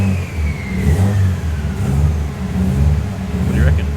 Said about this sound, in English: You free rev it, you might hear it.